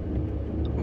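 A Mercedes-Benz C300 engine revs with a steady, loud, deep rumble that fills the whole moment without a break.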